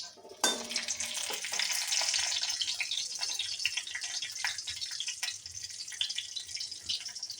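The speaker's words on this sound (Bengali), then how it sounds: "তেজপাতা কালো জিরে প্রায় ভাজা হয়ে গেছে" Bay leaves and black cumin frying in hot oil, a loud steady sizzle that bursts in abruptly and crackles on continuously with occasional pops.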